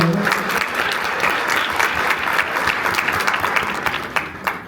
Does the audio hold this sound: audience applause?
yes